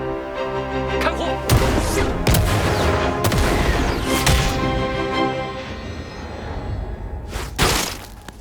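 Rifle gunfire in the animated series Release that Witch, a sharp loud shot followed by several more bangs and echoing blasts, with a final heavy shot near the end.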